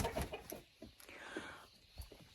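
Young laying hens kept in a separate enclosure apart from older hens cluck softly; a few short, faint calls come and go against quiet background noise.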